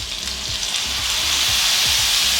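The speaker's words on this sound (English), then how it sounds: "Okay, the onions are brown. We are going to add the beef stock." Beef stock poured over browned onions for beef bourguignon, setting off a loud, steady, close hiss and sizzle that fills the pan without a break and with no voices.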